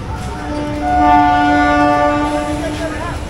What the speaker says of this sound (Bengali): ট্রেন এখান থেকে এখন দীঘা চলে যাচ্ছে